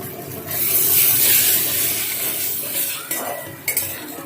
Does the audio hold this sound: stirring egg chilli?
yes